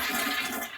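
A toilet flush rushes loudly and steadily through the whole short moment, a broad watery hiss with no pause or voices over it.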